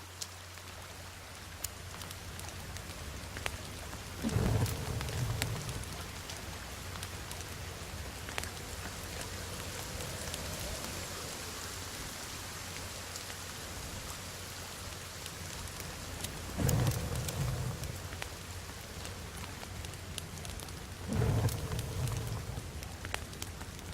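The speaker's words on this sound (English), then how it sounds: "Is the rain gonna stop soon?" Steady rain in the video game The Forest pattering on a surface, a constant hiss with a few brief louder thumps standing out along the way.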